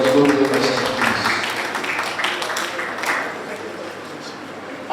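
An audience at a bar week opening ceremony claps for the chairman, producing a dense patter of applause that fades gradually over several seconds, with a voice faintly audible over the crowd.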